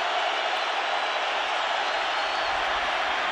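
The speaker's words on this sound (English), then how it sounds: "the noise is reverberating down there" A stadium crowd at a Seahawks vs 49ers football game roars as a steady, loud wash of noise that echoes through the stands and never lets up.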